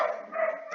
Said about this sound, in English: Please excuse the dog in the background.